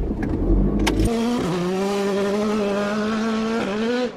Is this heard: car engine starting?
yes